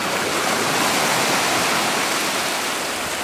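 Steady broadband roar of flat ocean surf washing onto a fishing beach, continuous and fairly loud with no distinct breaking crashes, no voices.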